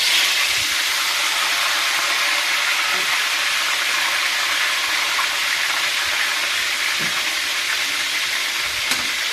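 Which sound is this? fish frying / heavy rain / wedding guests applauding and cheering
fish frying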